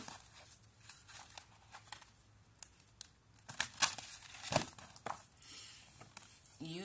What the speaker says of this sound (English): I'm almost done shuffling the cards